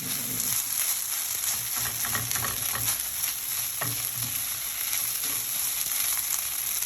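Rice with a small amount of soy sauce is stirred in a hot pan, a continuous sizzle and fry with scraping spatula strokes and occasional clinks, close and steady with no talking.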